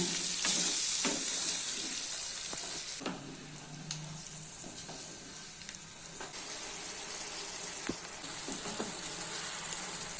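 Mutton korma stirred and fried in a pot on high flame, a steady close sizzle with a bright hiss, broken by scraping strokes of a spoon against the pan.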